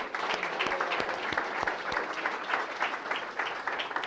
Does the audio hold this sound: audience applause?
yes